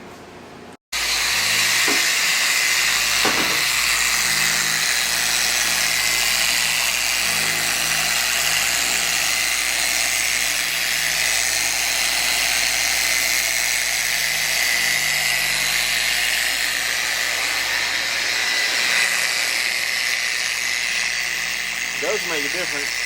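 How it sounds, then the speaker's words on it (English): A dual action buffer polishes the car paint of a 1946 Ford, giving off a close, steady, high whirring hiss. It starts abruptly and runs without a break, with faint voices underneath. "I'll just use the dual action buffer so you can't hurt nothing."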